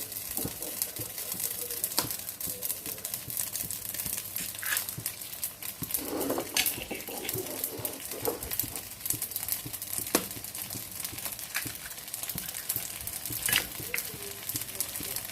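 Two eggs go into a pan of dry-style seafood sukiyaki, setting off a steady sizzle and frying crackle with scraping stirs throughout.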